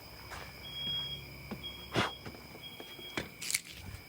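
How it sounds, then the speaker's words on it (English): An indoor alarm in a video game gives repeated high, thin beeps in short bursts, fairly faint, over soft footstep-like thumps and no speech. "there's an alarm coming from inside, so I'll have to check on that"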